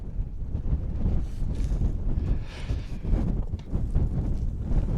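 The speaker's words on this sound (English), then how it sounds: "that sunset has made up for all this wind we've had." Strong wind on a mountain wild camp at Mynydd Mawr, buffeting the microphone with a steady loud roar and gusty surges throughout.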